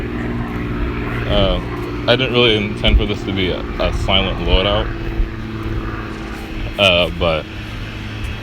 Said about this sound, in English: Sorry about the plane. I can't defeat the plane.